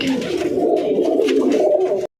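Madras tournament pigeons coo steadily up close, a low rolling murmur of overlapping calls that cuts off abruptly.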